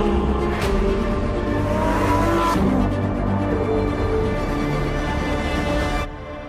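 A Lamborghini Huracán Sterrato engine roars and revs continuously at close range on a dirt road for several seconds, then the sound cuts off abruptly.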